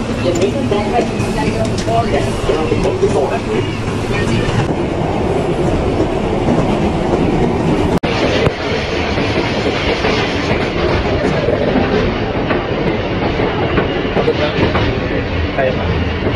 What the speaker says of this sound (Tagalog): This is a Manhattan Express train.